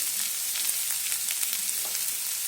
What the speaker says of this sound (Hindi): लहसुन की कच्ची स्मेल जाने के लिए 2 मिनट तक अच्छे से भून लिया